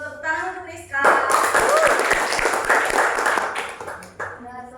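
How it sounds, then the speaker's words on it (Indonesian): Students in a classroom break into brief applause between stretches of a teacher's talking, a few seconds of mixed clapping with voices heard before and after. "tepuk tangan untuk Rizka."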